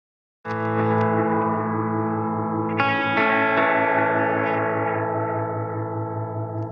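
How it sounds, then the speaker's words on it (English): A guitar runs through a Wampler Metaverse programmable multi delay pedal set to fast modulation, with sustained chords warbling and echoing; a second strum lands midway and rings out alone. "hold down the Alt button and turn up the modulation control"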